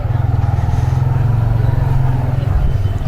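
A motorbike rides through narrow, rough city lanes, its engine thumping in a close, loud, steady pulsing beat that shifts slightly near the end, with a rider's voice faintly over it.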